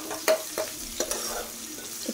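Onions sizzle in a pan of oil and are stirred, with a few scraping spoon strokes and clicks against the pan over a soft, steady frying hiss.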